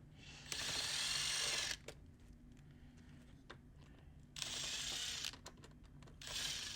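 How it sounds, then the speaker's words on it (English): A power drill drives screws while a streaming rig is assembled: two long whirring runs and a shorter one at the end, separated by quiet stretches with small clicks and handling noises. "A drill is highly recommended because otherwise you're gonna be turning a lot of stuff."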